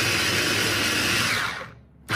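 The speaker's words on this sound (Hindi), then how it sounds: "मैंने उसको इसमें ग्राइंडर में डाला है, आप किसी में भी यूज करके जैसे भी पीसना चाहते हो आप पीसोगे।" An electric kitchen grinder whirs loudly as it grinds soaked ingredients for a hair pack, a steady close motor roar that winds down, then briefly starts again.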